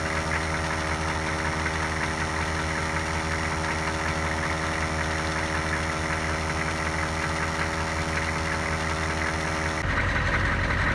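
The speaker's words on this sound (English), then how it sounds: "It's really not too loud, the compressor." A Harbor Freight air compressor runs with a steady, fairly loud motor drone and rhythmic knocking. Near the end the tone shifts briefly, and no one speaks.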